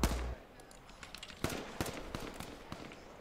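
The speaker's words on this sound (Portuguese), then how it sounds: "De trás eu dei dois tiros no carro." Gunshots fired at a car in the video game H1Z1: scattered sharp cracks, including two distinct louder shots in the middle, over a quiet in-game background.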